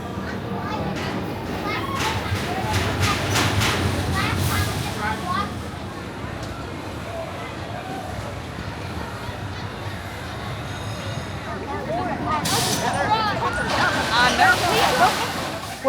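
The Adventure Express mine train roller coaster at Kings Island runs with a steady rumbling, rattling roar that swells near the end, while riders' voices and shouts mix in throughout.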